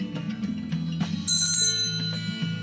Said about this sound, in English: Let's just ring the bell.